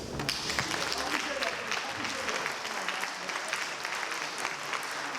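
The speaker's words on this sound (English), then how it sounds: "Please, a big round of applause for our students." A seminar audience at a land surveying division annual seminar applauds students, with dense sustained clapping from many people throughout and voices mixed into the crowd noise.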